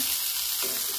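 Potato and eggplant fry in a pan for breakfast, making a steady bright sizzle that runs the whole second, with a soft stir or shift near the middle.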